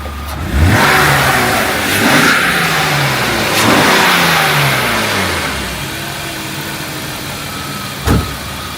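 A BMW 325i E36 with a rebuilt M50B25 inline-six revs up loudly from idle in several rising and falling sweeps, then settles back to a steady idle with one brief blip near the end.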